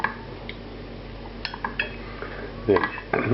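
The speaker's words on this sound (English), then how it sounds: "Move these crispy parts down into the rest of the rice so that it's evenly distributed." Crispy chicken and rice plov stirred in a pot, with scattered metal scrapes and clinks of a utensil against the pot, louder clattering toward the end.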